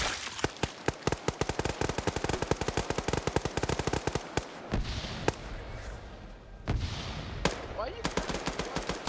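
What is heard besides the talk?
machine gun fire in a video game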